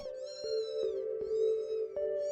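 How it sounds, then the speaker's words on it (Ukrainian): A cat meows softly in a series of drawn-out, tonal cries, several calls running close together with brief breaks between them, fairly quiet and heard on its own with no talking. "Раптом вона почула тихе нявчання."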